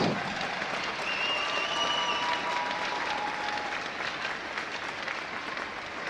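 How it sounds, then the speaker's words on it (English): Fans in a sports and event center applaud former players of a women's team at a season opener, a broad, fairly distant wash of clapping and crowd noise that holds evenly throughout, with faint tonal sounds over it. "Let's give them all a big round of applause, fans."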